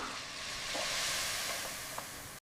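A soft, continuous sizzle of marinated chicken frying in masala for biryani, a hissing texture that holds steady throughout with no talking.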